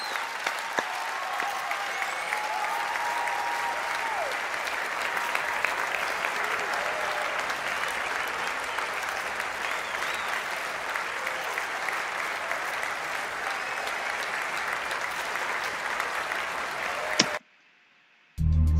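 A person claps hands steadily and continuously for about seventeen seconds, close and fairly loud, with the clapping ending abruptly before a brief silence.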